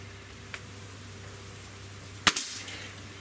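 A Gamo Swarm Magnum .22 breakbarrel air rifle fires a single sharp, close crack with a short echoing tail, after a faint click earlier on.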